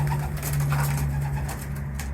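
Racing pigeons coo softly and continuously nearby over a steady low hum.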